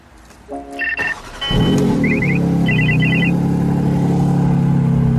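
A 2023 Porsche 718 Cayman GT4 RS engine fires up after a few electronic chimes and beeps, then settles into a loud, steady, throaty rumble that holds without pause.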